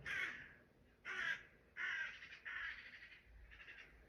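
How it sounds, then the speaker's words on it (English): Crows cawing in a series of harsh calls, five bursts spaced about half a second apart, fairly close and clear with no talking. "there's a murder of crows. That's crows."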